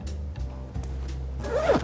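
A vintage workwear jacket's zipper is pulled up close by, a rough scraping rasp over low background hum, rising to a quick, brighter zip at the end.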